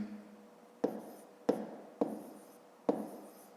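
Numbers are written out for a column multiplication of 17 by 58, giving four sharp, separate taps and strokes at uneven intervals, each one fading quickly into quiet.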